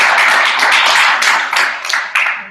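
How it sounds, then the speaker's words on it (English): Audience applause and clapping at a design jam event in Birmingham, close, loud rapid clapping from a group that tapers slightly with a few distinct claps toward the end. "I think everyone deserves a round of applause."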